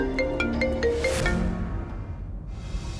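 Mobile phone ringtone plays a short melodic jingle of bright repeated tones over a low background hum, fading out partway through.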